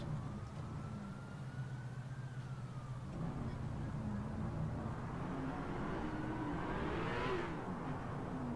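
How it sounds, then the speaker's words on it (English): A police siren on an LAPD patrol car in Grand Theft Auto IV wails in slow rising and falling sweeps, fairly faint, under a steady engine and traffic rumble. "Also have the LAPD siren now."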